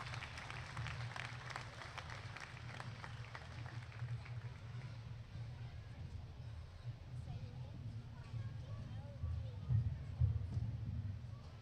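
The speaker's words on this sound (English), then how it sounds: "One last time, let's give them a round of applause." Round of applause for exhibitors at a market hog livestock show, scattered clapping under a loud announcer's voice and low arena hum, with a brief louder burst near the end.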